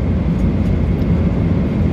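Steady, loud cabin drone inside an airliner in flight from Sydney, Australia to Almaty, Kazakhstan, a dense low roar with no breaks and no talk.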